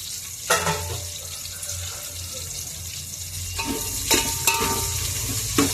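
Green chillies frying in a pan of oil while making prawn biryani, a steady low sizzle running throughout with a few sharper clinks and scrapes from stirring.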